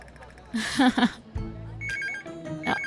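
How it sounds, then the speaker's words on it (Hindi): A telephone rings in short electronic bursts indoors, with voices talking over and between the rings. "फोन आ रहा है।"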